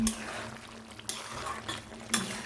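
Goat fat sizzling in a pan while chicken curry is cooked, a steady fry with sharp scrapes and clinks of a stirring spoon against the pan at intervals.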